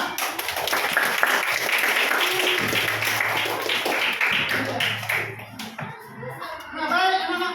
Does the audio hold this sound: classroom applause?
yes